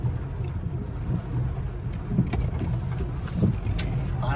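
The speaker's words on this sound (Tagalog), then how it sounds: "Umulan na po. Ayan, lakas po ng ulan." Heavy rain pours steadily at a marina in Saipan, a dense continuous hiss with a low rumble underneath and occasional louder spatters, heard fairly close with no talk over it.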